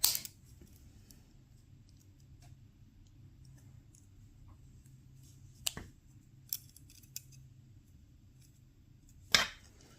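A few sharp scissor snips cutting beading wire cut through near-silence, spaced out, with the loudest snips at the start and near the end.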